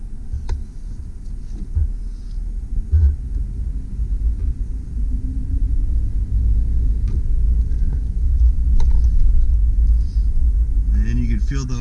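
Steady low engine rumble from a 2002 Chevrolet Tracker ZR-2 V6 idling in neutral with four-wheel low engaged, revving slightly higher toward the end, with faint mechanical clicks; someone talks over it.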